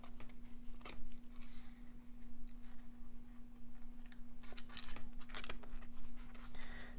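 Quiet, scattered snips and crisp cuts as scissors trim paper strips for a handmade lattice card, irregular and close, over a steady low electrical hum with no talk.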